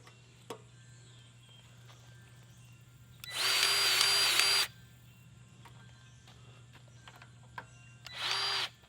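A Milwaukee 18V cordless grease gun pumping grease on a Kubota BX25D tractor whines in two motor bursts, a longer one of about a second and a half and a short one later, between quiet clicks and handling noise.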